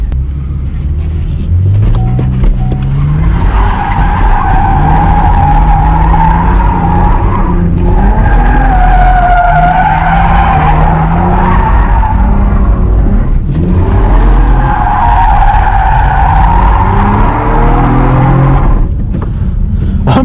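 Automatic V6 Camaro drifting on a track, running donuts and figure eights: a loud, continuous tire squeal and skid rising and falling in long sweeps over a revving engine, with brief breaks between passes.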